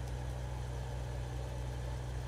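Unimog truck with big agricultural tires idling in Farming Simulator 15, a steady low diesel drone with a constant rumbling hum and no change in revs.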